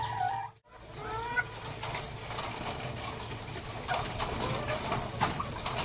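Breeder hens on a poultry farm with laying hens cluck and murmur in a steady, moderately loud chorus, with scattered sharper calls over a constant low farm hum.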